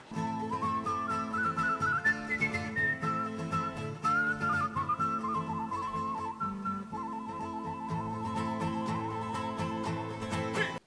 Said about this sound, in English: I learned that he was quite known for his impressive whistling abilities